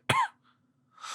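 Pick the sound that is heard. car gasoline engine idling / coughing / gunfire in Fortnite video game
coughing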